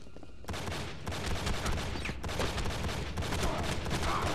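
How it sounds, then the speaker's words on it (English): Pistol gunfire in the video game Enter the Matrix: a dense, continuous stream of rapid shots and crackling impacts with no break, moderately loud after a brief quiet start. "Those are pistols."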